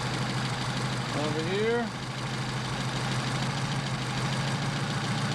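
A Mercedes 190SL engine fitted with Solex PHH44 carburetors idles at about 700 rpm, giving a steady, even hum throughout while a voice speaks briefly over it.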